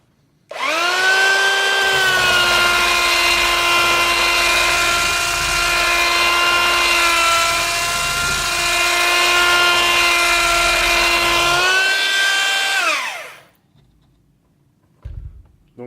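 A small electric belt sander works along the edge of a board, giving a steady, loud, close whine with a harmonic hum that runs for about twelve seconds before winding down to quiet.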